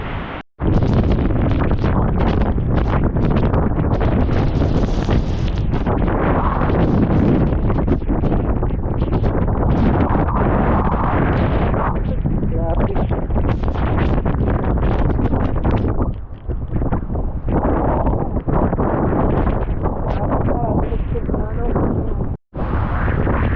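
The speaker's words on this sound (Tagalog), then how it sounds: "Malakas na yung hangin" Strong typhoon wind in Daet roars and buffets the microphone, a loud continuous rush with gusting surges and a brief dropout near the end, no clear talk over it.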